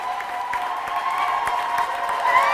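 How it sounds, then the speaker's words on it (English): Crowd at an Olympic swimming event cheering and applauding, a steady roar of clapping and voices that swells slightly near the end. "Crowd getting a little bit more vocal as we go."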